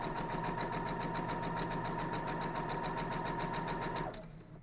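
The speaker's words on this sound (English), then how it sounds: "we are going to sew our other piece to it" A sewing machine stitching quilt block pieces together runs in a fast, even, close whir for about four seconds, then stops abruptly.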